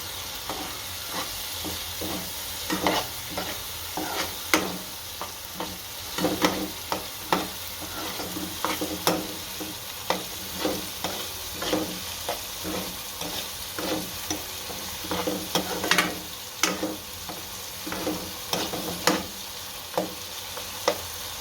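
Green onion curry with tomatoes and oil cooks in a pan while a spoon stirs it, a steady sizzle broken by repeated scraping clicks at a loose, uneven rhythm, near and clear, no talking.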